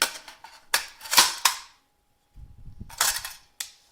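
A standard GI rifle magazine is handled, giving a few sharp metallic clicks and snaps in quick bursts, then a short low rustle followed by two more crisp clacks, close and fairly loud with no talk.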